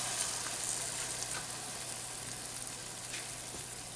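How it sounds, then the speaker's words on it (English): Sizzling butter chicken pan on the stove as heavy whipping cream is poured in, a steady, hissing frying sound continuing evenly throughout, close and moderately loud with no talking. "We're going to turn our heat down, add our heavy whipping cream"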